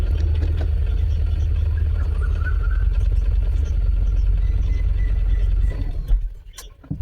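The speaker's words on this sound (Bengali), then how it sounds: "ক্লাচটা আস্তে আস্তে ছাড়ো, এবার গাড়িটা ভাইব্রেট হবে।" A steady, loud low car engine rumble vibrating continuously as the clutch is slowly released, then dropping off near the end with a few brief knocks.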